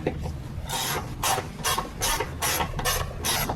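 A ratchet clicks in a steady series of rasping strokes, about eight close pulls, while intake manifold bolts are snugged down on a 2018+ Buick Enclave.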